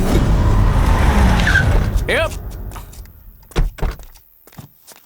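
A car skids with a loud tire squeal as it brakes to a stop on a road, the screech sweeping over engine noise before a door sound and raised voices arguing follow.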